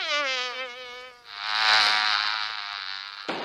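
Insects buzz in a jungle setting, a wavering whine that shifts into a denser, louder drone lasting several seconds, close and alone with no talk.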